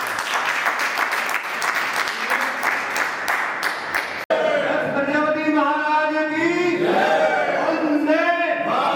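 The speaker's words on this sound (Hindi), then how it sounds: "सबसे अपील करता हूँ कि उसके बारे में तालियों से उनका स्वागत किया जाए" Audience at a meeting bursts into dense, steady applause for about four seconds, loud and close, before it cuts abruptly to someone speaking over a microphone.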